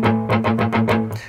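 Distorted, palm-muted three-string cigar box guitar chugging in a steady rhythm, about six tight chugs, close and fairly loud, with a final note left ringing.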